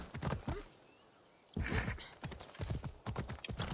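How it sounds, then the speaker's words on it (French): Horse hooves clip-clop at a steady walking pace in Assassin's Creed, close and distinct, breaking off for a moment before the rhythmic clopping resumes. "Tiens quand même mon cheval."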